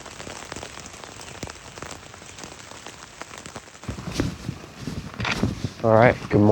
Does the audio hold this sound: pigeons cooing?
no